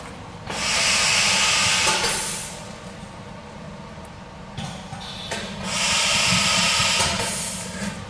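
A piFLOWp 64 vacuum conveyor draws support toner under suction, a loud steady airy hiss rising and falling in bursts with short quieter gaps, like pulsed suction cycles, with no talking.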